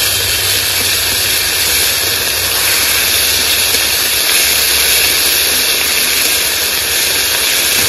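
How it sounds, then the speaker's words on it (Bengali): Ginger and cumin paste fries in a hot pan, giving a loud, continuous, dense sizzling hiss that stays steady throughout. "আদা জিরেটা একটু ভালো করে কষে নিচ্ছি।"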